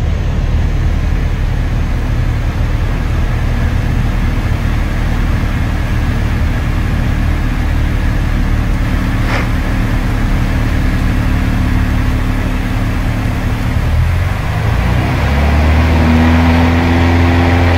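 A Piper Warrior light aircraft's piston engine drones steadily and loudly throughout a go-around, with the engine note shifting and tonal bands rising near the end.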